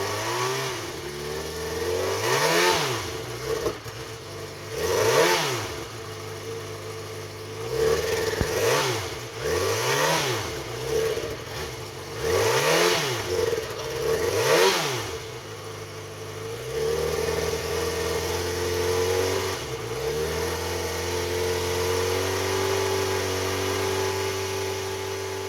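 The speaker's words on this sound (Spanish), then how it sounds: "Ya he tenido la moto arrancada un rato y ha alcanzado su temperatura de funcionamiento." A Yamaha XJ6 motorcycle engine, warmed to operating temperature, revs repeatedly in short rising and falling bursts, then settles into a steady idle. The engine is close and fairly loud, with no talking.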